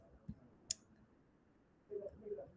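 A single sharp computer mouse click sounds close and alone in a quiet room, followed by soft faint rustling.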